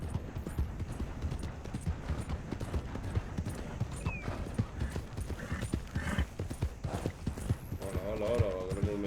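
Horse hooves clip-clop in a steady, busy rhythm throughout, with people talking over them and a brief whinny-like call near the end.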